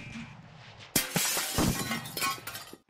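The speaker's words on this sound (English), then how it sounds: "Or did it just all shatter because you were the last one?" Platforms in a Mario video game shatter like glass, a sudden loud crash followed by a rapid, dense spill of breaking and clinking shards lasting a couple of seconds before cutting off.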